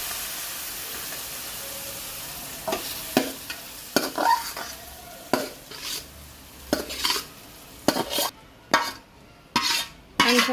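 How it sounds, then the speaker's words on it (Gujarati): Mashed potato being mixed with spice masala in a pan for a potato sandwich filling, soft background hiss followed by a series of spoon scrapes and clanks against the pan, close up, irregular strokes with the heat off. "હવે મસાલો બટેકાનો માવો ભેળવી દેવાનો"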